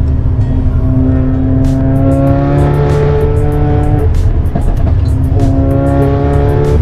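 A Mercedes A45 AMG with a Milltek exhaust accelerates hard, its loud, close engine note rising through the revs, dropping at a quick gearshift, then climbing again with sharp exhaust crackles.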